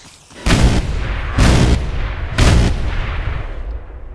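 Artillery emplacement in the Minecraft Superb Warfare mod firing automatically at hostile mobs: three loud, booming shots roughly one second apart, each leaving a rumbling tail that fades slowly.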